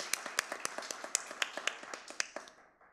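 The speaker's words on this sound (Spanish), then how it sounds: "También pido un aplauso para él," Sparse applause from a small audience at a literary event: individual claps ring out separately and unevenly, then thin and fade away toward the end.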